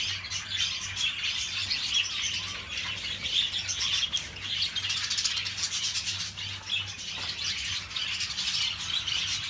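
A bird shop holding hundreds of budgerigars fills the air with dense, continuous chirping and twittering, with occasional wing flutters and squawks, loud and close throughout.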